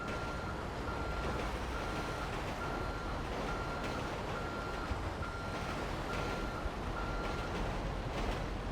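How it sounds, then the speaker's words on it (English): A train passes in the GTA 5 video game: a steady, loud rolling rumble with broad roaring noise that holds for the whole stretch, a faint sustained tonal whine running above it. "Oh shit, there's a train coming"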